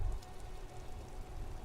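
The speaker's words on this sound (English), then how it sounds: "Rain drips from the eaves and floods the gutters, washing the filth away." Steady rain falls over the city in the game Disco Elysium, a soft, even hiss of drops on surfaces, low and continuous with no voices over it.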